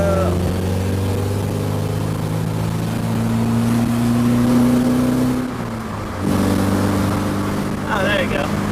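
A Nissan 240SX with a KA24DE engine drives along with a loud, steady engine drone that rises in pitch and then shifts after a brief dip, while a voice talks over it at times.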